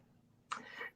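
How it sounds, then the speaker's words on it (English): A single short, muffled cough, quiet and close, breaks a near-silent moment. "Sorry, I'm coughing today."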